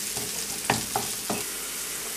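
Food is mixed in a pan with olive oil: three distinct scraping strokes over a soft, continuous sizzle, close and fairly quiet.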